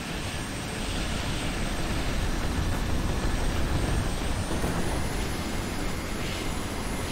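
Aircraft engine in a flying video game, a steady loud roar and whine that holds evenly throughout with no talking over it.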